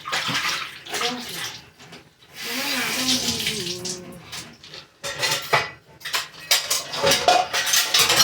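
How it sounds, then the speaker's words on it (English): Hands are washed under a kitchen tap, with running water splashing unevenly into a sink and rising and falling as the hands move under the stream, close and fairly loud with a little background clatter. "Let me wash my hand."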